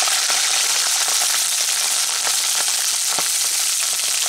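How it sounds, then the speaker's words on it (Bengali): Nigella seeds frying in hot mustard oil while cooking a soybean curry: a loud, dense, continuous sizzle with fine crackling pops, close up, with no talking. "তেলটা গরম হতেই আমি সবার প্রথমে এর মধ্যে কালিগুলোকে ভেজে নেবো"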